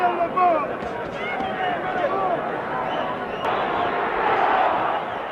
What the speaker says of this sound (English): you hear the crowd picking up the chant.